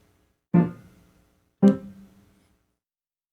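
Two short, detached piano notes struck about a second apart, each decaying quickly into silence, with the start of a third at the very end; clear and close.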